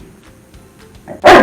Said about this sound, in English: he thinks he needs to bark at everybody